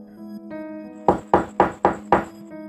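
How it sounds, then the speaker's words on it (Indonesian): Five loud, evenly spaced knocks on a door, close and sharp, over a faint tonal background hum with no talking. "Suara ketukan pintu dibarengi salam dari luar."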